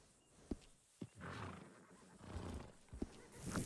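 A horse in Red Dead Redemption 2 whinnies and snorts between sharp knocks, with a breathy neigh rising in the middle and a few clicks near the end.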